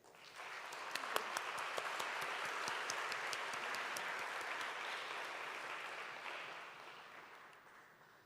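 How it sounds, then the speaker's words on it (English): At an academic conference, a large hall audience breaks into warm applause, a dense, even roar of clapping with a few sharp claps near the start, sustained for several seconds before gradually fading. "A warm round of applause, please."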